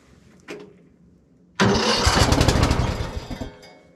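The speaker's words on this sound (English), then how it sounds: "It says clamp cables to battery, ready, start vehicle ignition." A vehicle engine cranks and catches during a jump start with booster cables clamped to the battery, a brief bump first, then a loud sustained churning run of the engine that fades toward the end.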